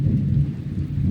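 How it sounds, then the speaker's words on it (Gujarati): Thunder rumbles with steady rain in a rural Gujarati area during a downpour, a continuous low, dense roar filling the short stretch without pause. "જો વરસાદ ગાજે હે ફૂલ, અટાણામાં ચાલુ થયો વરસાદ"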